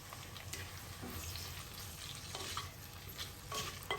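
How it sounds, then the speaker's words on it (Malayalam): Sliced shallots and chopped tomato sautéing in a pan for a South Indian prawn curry, with a steady sizzle and repeated scraping stirs of a spoon, close and clear with no talking. "ഇപ്പോൾ ആ ചെറിയ ഉള്ളിയും ടൊമാറ്റോയും ഒക്കെ ഒരുമാതിരി വഴന്ന് വന്നിട്ടുണ്ട്"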